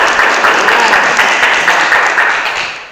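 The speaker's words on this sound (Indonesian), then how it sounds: "Silakan aplaus dulu, teman-teman." A classroom group claps together after a group presentation, brisk dense applause that stays loud throughout and then tapers slightly at the end.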